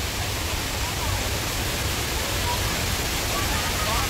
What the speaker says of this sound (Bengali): একটা মালার মতন একটা ওয়াটারফল